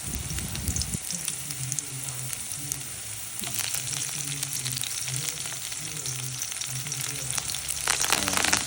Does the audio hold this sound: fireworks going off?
no